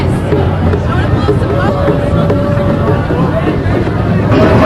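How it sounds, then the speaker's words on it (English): Crowd at a street celebration in San Francisco, a dense babble of voices and cheering filling the scene, loud and continuous with some traffic noise mixed in. "Behind me, you'll see the people cheering."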